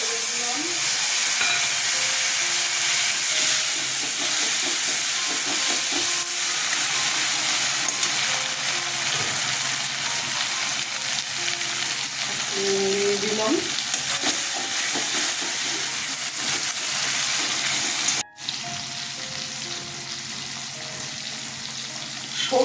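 Tomatoes fry in a pan for a Bengali mustard sorputi fish curry, a loud, steady sizzle with occasional stirring scrapes and clinks and a brief break near the end.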